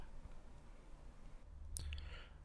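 A few faint, sharp computer mouse clicks while drawing an electrical wiring diagram in software, isolated against quiet room noise.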